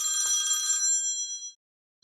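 A phone rings loudly and close by with a bright electronic trill that runs for about a second and a half, then cuts off into silence. Nobody speaks.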